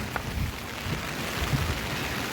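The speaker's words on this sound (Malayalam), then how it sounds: "നല്ല മഴയാണ്." Heavy rain falls as a dense, steady hiss of drops on surfaces. It is continuous and moderately loud, with no voices.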